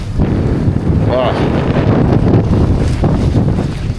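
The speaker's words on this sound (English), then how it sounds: "It is so windy right now." Loud, blustery wind roars and buffets the microphone over open water during a parawing foil downwinder, steady and rough throughout, with a brief voice under it.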